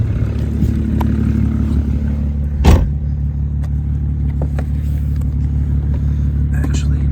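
A BMW 335xi just back from a head gasket replacement drives along with a steady, loud low engine and road rumble from the cabin, a brief louder whoosh partway through, and a voice speaking quietly.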